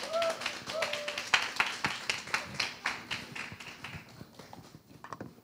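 Applause from the congregation at a high school youth worship service held at a church, a dense, close patter of clapping with faint voices mixed in, gradually thinning and fading over several seconds.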